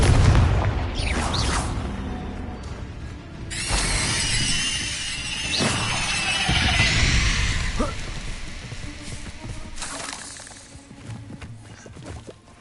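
A Confringo fire spell erupting in Hogwarts Legacy, loud booming blasts with fiery squeals and crackling bursts in the game's combat mix, several strong hits followed by a fading rumble.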